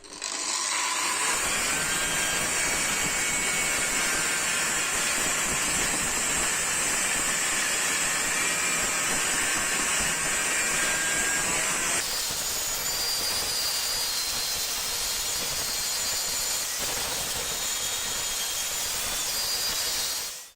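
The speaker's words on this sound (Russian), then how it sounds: "Просто попробуем его шлифануть." An angle grinder fitted with a flap disc grinds down a steel weld on an angle iron, a loud continuous high-pitched whine and rasp that shifts in tone partway through, with no talking.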